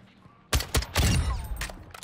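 Rifle fire from an EBR-14 in the video game Call of Duty: several sharp, loud gunshots in quick succession over about one and a half seconds, with low booming tails.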